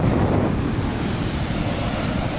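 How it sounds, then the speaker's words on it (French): Large ocean waves crash continuously on a steep beach in Brazil, a loud, dense roar of surf mixed with heavy wind buffeting, with no voices. "les vagues sont énormissimes, hein"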